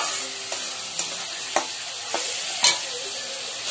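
Spice paste sizzles in hot oil in a pan, a close, even frying hiss marked by regular soft scrapes of stirring roughly every half second.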